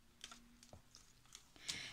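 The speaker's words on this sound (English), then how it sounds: "cut it with my scissors" Scissors snip through an old book page while paper is being cut for gift wrapping, a few crisp, faint cuts spaced irregularly in a quiet room.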